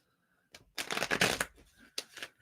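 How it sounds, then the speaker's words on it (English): Tarot cards shuffled by hand during a reading, a close, papery riffling that comes in two or three bursts after a brief quiet start. "And let me shuffle up for you, Morgan."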